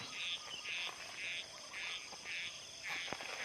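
Frogs croak at dusk near frog traps set in rural Thai fields, a steady chorus of repeated bursts with faint insects humming underneath, fairly close and continuous.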